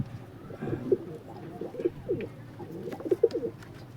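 Madrasi pigeons offered for sale coo softly nearby, low throaty burbling calls repeating irregularly over a faint background murmur.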